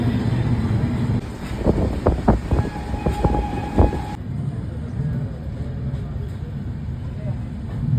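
Passenger train running between Varanasi and Prayagraj, a steady rolling rumble from inside the carriage with a few sharp clanks early on, continuous and moderately loud throughout.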